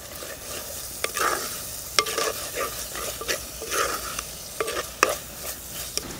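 Ginger-garlic paste and curry leaves fry in a pan for country chicken rasam, a soft steady sizzle broken by repeated sharp scrapes and clinks of a spoon stirring against the metal, close and irregular.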